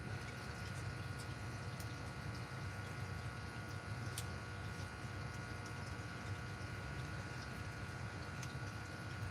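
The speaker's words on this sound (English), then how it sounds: "My air pump sounds like it's running harder." An aquarium air pump runs in water with a continuous bubbling hum, steady and even throughout, faint and close with no talking.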